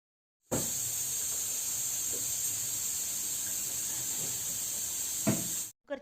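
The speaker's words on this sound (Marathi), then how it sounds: "कुकरच्या शिट्ट्या पण होत आहे" A pressure cooker cooking dal lets out a long, steady, high-pitched steam whistle that starts abruptly, holds for about five seconds, then cuts off, with faint kitchen clatter underneath.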